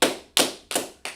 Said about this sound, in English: Let's clap it up for everybody, okay?